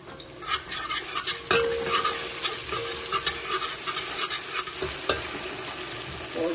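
Garlic ginger paste fries in a pan of oil for beef haleem, a steady sizzle broken by scraping strokes of a spoon stirring it, close and continuous.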